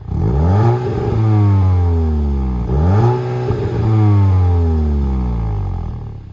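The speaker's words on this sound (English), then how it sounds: "Go on, rev it." A Volkswagen Golf GTI Clubsport in eco mode revs loudly and up close, its engine climbing and falling in two strong sweeps with a clattery, throaty edge and no talking over it.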